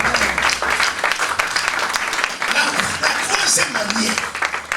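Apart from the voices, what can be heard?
congregation applauding to acclaim the Lord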